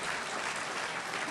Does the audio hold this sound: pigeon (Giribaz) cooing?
no